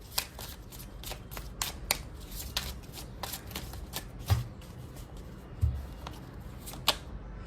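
Tarot cards being shuffled and drawn close by, with a run of quick, crisp riffling flicks and a couple of soft thumps as cards are set down. Nobody speaks.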